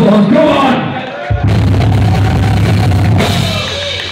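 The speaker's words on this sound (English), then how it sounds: "give yourselves a round of applause" A concert crowd at the O2 Academy cheers and shouts loudly after a metal band's song, a dense roar of voices that carries on throughout the clip.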